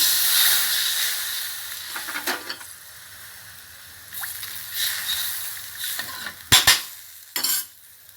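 Red curry paste and coconut milk bubble and sizzle softly in a pan, with intermittent stirring clinks and scrapes of a utensil punctuating the low simmer; no talking.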